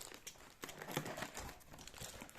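Wrapping foil crinkling as a package of comics from a shop is opened, soft continuous rustling and crackling close by with small sharp crunches, fairly quiet and with no talk.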